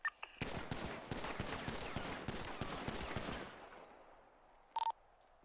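A full pistol magazine emptied at range targets in GTA NoPixel, a quick string of about a dozen sharp, close shots in steady succession, then fading quiet with a brief electronic beep near the end.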